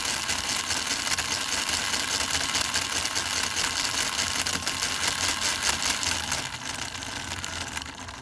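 A Bachmann Big Hauler 0-4-0 model locomotive runs at 12 volts with a 3D-printed gear, giving a steady, close whirring buzz with a fast rhythmic flutter as the gear jumps, easing slightly near the end.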